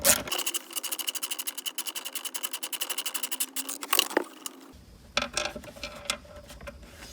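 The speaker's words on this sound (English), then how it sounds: "you can see why this socket wrench setup is so much easier" Rapid ratcheting clicks from a socket wrench loosening airbag module bolts inside a GMC Terrain, a steady close fast rattle for about four seconds, then sparser clicks and handling noises.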